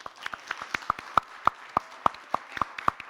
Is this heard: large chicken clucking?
no